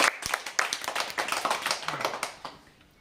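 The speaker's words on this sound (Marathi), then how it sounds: "तिच्यासाठी जोरात टाळ्या द्यायच्या." Children in a classroom clap loudly for a girl after a memory game, a dense burst of hand claps that fades toward the end.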